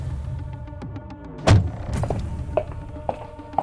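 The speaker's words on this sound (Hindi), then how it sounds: "कुछ देर बाद सावंत ने तेजी से गाड़ी का दरवाजा खोला" A car door opening in a Hindi horror story, with a sharp close thunk partway through amid scattered mechanical clicks and rattles, then lighter knocks afterward.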